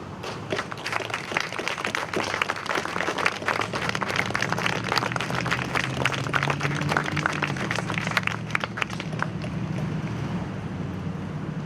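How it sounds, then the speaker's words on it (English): Audience applause fills a 2020 September 11 memorial ceremony as people stand to be recognized: dense, steady clapping from many hands, close and sustained throughout without letting up. "we'll just offer a round of applause"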